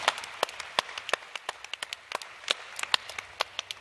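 Scattered, sparse clapping from a small audience at a startup pitch competition final, individual claps distinct and irregular, moderately near and fairly quiet.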